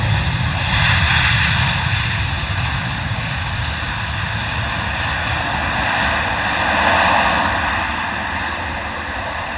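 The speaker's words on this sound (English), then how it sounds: "heavy arrival there from the Wizz Air 321 Neo" A Wizz Air A321neo lands heavily at London Luton Airport in wet, windy weather. Its engines give a broad, roaring rumble at moderate distance that swells and slowly fades, and there is no talking over it.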